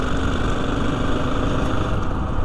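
Husqvarna FE501 street legal enduro motorcycle engine idling steadily and close by, a continuous rumbling drone with no pauses and no voices.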